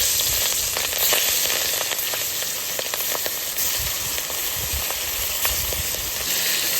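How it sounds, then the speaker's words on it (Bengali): Steady, loud sizzling of fish frying in hot oil, with crackling pops scattered throughout and no talking. "এক এক করে মাছটা তেলে ছেড়ে দেবো।"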